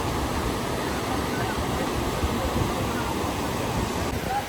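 Fast, heavy river water rushes at Badrinath, a dense, continuous roar that stays loud and steady throughout with no speech over it.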